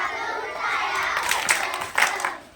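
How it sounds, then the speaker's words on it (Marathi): Children clap along while singing a Marathi rain song, a brisk, dense patter of small hands blended with bright young voices and lively shouting throughout. "चला वाजवू टाळ्या"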